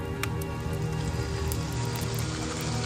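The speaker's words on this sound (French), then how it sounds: "il peut remarquer que la pluie commence à tomber." Light rain begins falling on a forest, a dense steady patter of drops with a low background hum, close and continuous.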